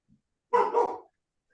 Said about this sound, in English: You want me to pause this while she's barking?